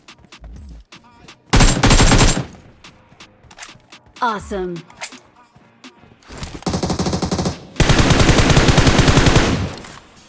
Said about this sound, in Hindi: अब ये मेरे टीममेट के ऊपर गोली चला रहा होता है